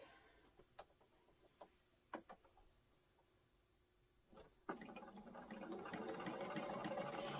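A sewing machine stitches binding on the top and bottom of a quilt at night, starting with scattered faint clicks and taps before settling into a steady, louder whirring run.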